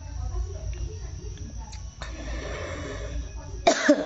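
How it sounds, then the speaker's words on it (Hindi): A close, sharp cough bursts out near the end after a stretch of quiet room noise and soft breathing. "थोड़ी खांसी आ गई"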